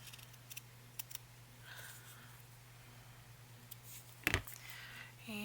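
Scissors trim a scrap of craft paper for a journal, making a few light, scattered snips and clicks close by, with one sharper cut near the end in a quiet room.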